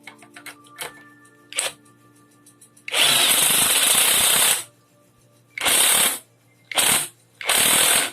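OKS impact driver with an 18mm socket loosening a 4-inch Dynabolt: a long loud rattling hammer burst, then three shorter bursts with brief pauses between, up close and without talk.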